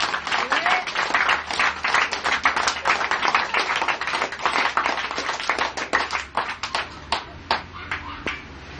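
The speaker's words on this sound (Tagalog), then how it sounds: "Palakpak para sa Diyos" A church congregation claps for God during a worship service: dense, loud, steady applause from many hands that fills the whole stretch without pause.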